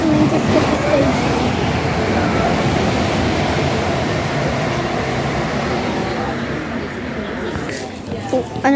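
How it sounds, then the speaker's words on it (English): A London Northwestern Railway train rumbles steadily through a station without stopping, close range, a continuous loud roar of wheels and carriages with a faint higher whine near the end. "There's a London North Western Railway coming to skip the station."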